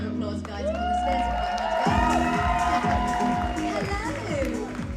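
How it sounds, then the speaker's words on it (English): An audience at a junior pageant claps and cheers loudly, with whoops and children's shouts rising over a continuous wash of applause while a host talks over the crowd. "Another round of applause, guys."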